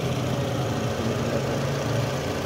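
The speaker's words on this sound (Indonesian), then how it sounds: "Suara mesinnya?" Second-generation Toyota Alphard with its standard 2400 cc engine idling, a steady, continuous low rumble with even hum that stays constant and fairly loud throughout, with no talking.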